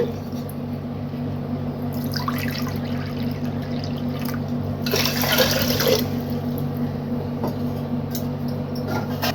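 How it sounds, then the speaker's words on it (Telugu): Water is poured from a measuring bowl into a pot for rasgulla sugar syrup, three bowlfuls in all, heard as splashing gushes over a steady low hum, with the loudest pour near the middle. "నేను వచ్చేసి మూడు గిన్నెలు వాటర్ అయితే తీసుకుంటున్నా"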